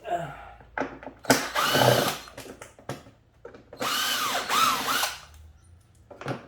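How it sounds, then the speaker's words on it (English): A power drill whirs in several short bursts, one long run and a few brief pulses, while T25 screws come out near the engine air filter housing of a Mercedes CLK320 with the M112 engine, loud and close. "All you need to do is to take off 1, 2, 3, 4 screws that are T25."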